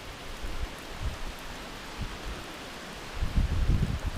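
Rain patters down on a lakeside carp fishing swim at night during a storm, a soft steady hiss with scattered drops and a heavier, louder burst of rain near the end.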